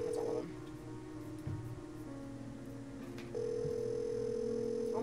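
Telephone dialing in the Nancy Drew: Secrets Can Kill computer game: steady synthetic dial and keypad tones that shift pitch a few times, clear and alone.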